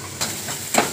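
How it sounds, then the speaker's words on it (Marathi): Cumin, curry leaves and onions fry in hot oil for Maharashtrian poha, with a close, steady sizzle broken by two brief scraping stirs. "ह्याच्यामध्ये जिरं टाकलंय, कढीपत्ता, कांदे, त्याला चांगलं भाजून घ्यायचं, तेलामध्ये परतून घ्यायचं।"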